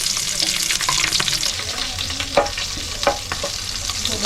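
Green chilies dropped into cumin seeds sizzling in hot oil in a home kitchen pan, giving a steady close crackling sizzle broken by a few sharp scraping stirs.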